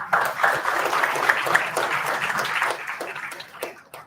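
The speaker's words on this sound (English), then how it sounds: "Let us have a big round of applause for that." An audience at a workshop gives a round of applause: dense, sustained clapping that holds steady, then thins and fades toward the end.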